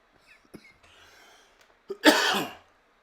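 One harsh, close cough after some faint breathing and small mouth noises.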